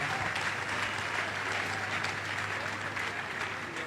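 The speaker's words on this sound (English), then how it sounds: "Let's clap for wonderful Jesus Christ once again." Church congregation applauding during a prayer and deliverance service, a steady wash of distant clapping from a large crowd, fairly faint and even throughout.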